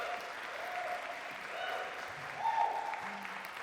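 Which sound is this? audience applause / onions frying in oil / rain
audience applause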